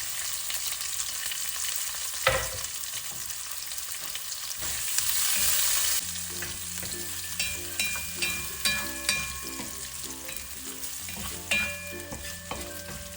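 Mutton stew ingredients fry and are stirred in a pan: a steady sizzle runs underneath while a utensil scrapes and clinks against the pan in a quick, uneven rhythm, close up with no voices.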